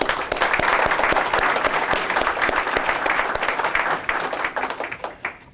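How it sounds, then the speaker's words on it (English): Dense, steady applause fills a courtroom during a memorial court session as the audience honors committee members, a loud, continuous wash of many hands that tapers slightly at the end. "let's give them a round of applause"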